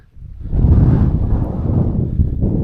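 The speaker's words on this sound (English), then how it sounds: "It's a little bit windy" Wind buffeting a microphone at a wild camping spot in the Scottish Borders, a steady low rumbling roar that rises after a quiet start and keeps gusting loudly throughout.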